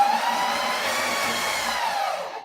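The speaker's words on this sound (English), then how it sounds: "I'm stitching." A sewing machine stitching a quilt gives a smooth, steady motor whine, held close and even for a couple of seconds before it cuts off.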